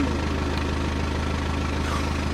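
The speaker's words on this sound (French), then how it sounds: "Nous sommes avec une Dirt, une moto. Une grande moto de compétition. Aujourd'hui, nous sommes avec une BMW." A BMW competition dirt bike idles with a steady, pulsing low throb, the engine beats evenly repeating at constant loudness throughout.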